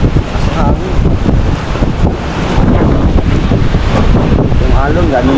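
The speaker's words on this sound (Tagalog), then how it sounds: "Lakas ng hangin." Strong wind at Bucana roars and buffets the microphone continuously, with a dense rushing noise throughout and faint voices underneath.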